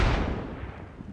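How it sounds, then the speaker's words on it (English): An incoming rocket explodes in the video game Squad, a single deep, booming blast that rolls off over about a second. "Rockets coming in."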